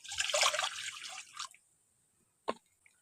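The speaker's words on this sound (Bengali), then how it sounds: "ওর মধ্যে জলটা দিয়ে দিচ্ছি।" Water poured into a kadai for boiling soaked kabuli chickpeas: a close, dense splashing pour for about a second and a half, then near silence broken by a single sharp drip or splash.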